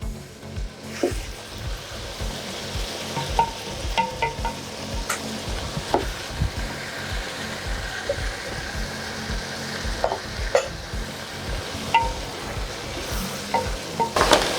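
Smoked sausage frying in a pot for jambalaya, a continuous close sizzle broken by repeated scraping and clinking strokes of a spoon stirring against the pot, with no talking.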